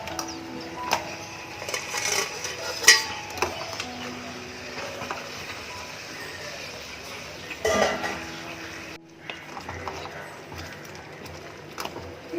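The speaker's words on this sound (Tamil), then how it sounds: "இப்போ இந்த நண்டு இதில் சேர்த்துடலாம்." Whole crab going into masala gravy in a metal pan: clatters and scrapes of shell and utensil against the pan, a few sharp knocks, and soft bubbling and sizzle, close by.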